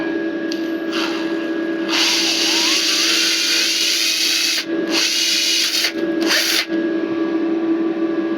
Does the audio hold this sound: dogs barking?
no